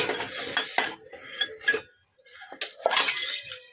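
Metal spoons clink and scrape against dishes in quick clusters, with a short pause midway before more clattering and splashing resumes.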